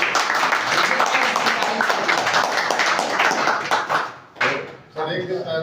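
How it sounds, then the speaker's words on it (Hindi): An audience claps loudly in a dense burst of applause that fades out after a few seconds, then a voice begins speaking. "जोरदार ताली बजाएं"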